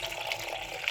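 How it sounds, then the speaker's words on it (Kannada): Water poured from a mug into a container makes a brief, steady splashing trickle at close range, with nothing else heard. "ಒಂದು ಮಗ್ಗಷ್ಟು ನೀರು ಹಾಕ್ಕೊತಾ ಇದ್ದೀನಿ"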